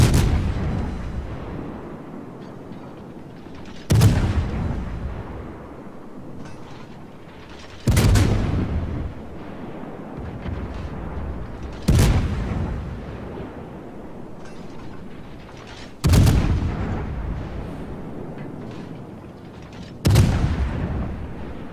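Naval guns fire in World of Warships, each a loud booming salvo followed by rumbling decay, repeating at roughly four-second intervals for six shots.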